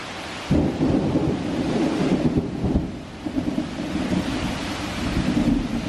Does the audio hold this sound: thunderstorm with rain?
yes